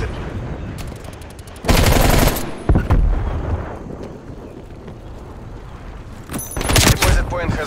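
Automatic gunfire in a Call of Duty Cold War multiplayer match, loud bursts cutting in twice over constant game noise and a voice talking.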